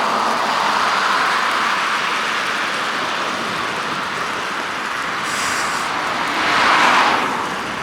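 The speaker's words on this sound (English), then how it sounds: "the traffic is getting busier and busier" Steady road traffic on the approach to a town in the Norwegian fjords, a continuous broad rush of cars passing nearby with a louder vehicle swelling past near the end.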